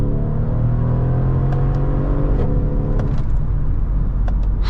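A 2015 Mercedes ML63 AMG W166 SUV engine pulls hard under acceleration, a loud, steady, deep drone heard from inside the cabin, continuous throughout with no speech.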